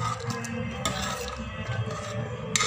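A spoon scrapes and stirs chicken gravy around a pot after water is added, with soft clinks and a steady low kitchen rumble underneath.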